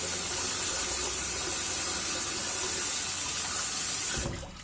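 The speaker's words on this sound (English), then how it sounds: "Sorry for the water noise" A tap runs steadily in a bathroom sink, a loud continuous rushing hiss that cuts off near the end.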